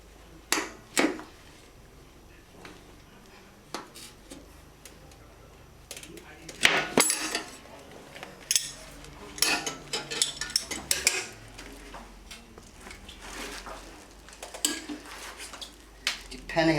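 Metal tire irons prying and clanking against a stiff dirt bike tire bead on a No-Mar tire changer, with irregular sharp metallic knocks and scrapes spread through the stretch, close and moderately loud.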